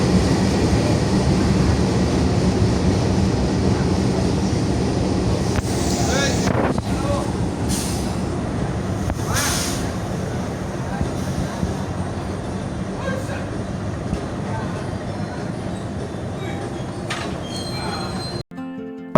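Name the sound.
train at station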